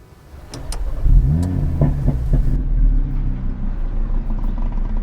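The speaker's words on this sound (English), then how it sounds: "when you turn the engine on," A 2021 Audi RS3 engine fires up with a loud starter whir and catch, then settles into a steady, rumbling idle close by, with no voices.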